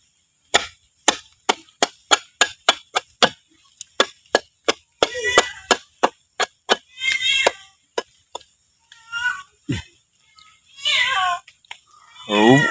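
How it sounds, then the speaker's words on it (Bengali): A cat meows several times, loud and close, after a run of sharp, evenly spaced knocking taps like chopping. "ওই যে তোমার বিড়াল, ওই যে দেখো পাগল হয়ে গেছে মনে করতেছে।"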